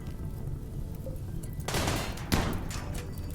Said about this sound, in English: Okay, now I want both of them to shoot to Luna.